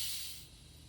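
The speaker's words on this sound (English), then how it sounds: "You can see and hear the steam escaping." Steam hisses loudly from an electric pressure cooker during pressure release, a close, bright rush that fades within the first half second to a softer, lingering hiss.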